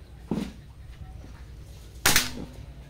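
Two sharp shots from a Manlapat CO2 hammer-type airgun, a smaller crack followed after a pause by a louder snapping report, each with a short ringing tail.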